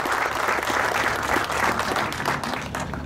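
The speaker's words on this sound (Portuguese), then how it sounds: "Otro aplauso para ellos también" Applause from an audience at a ceremony opening an industrial condominium park, a short, steady burst of many hands clapping together, fairly loud with no break.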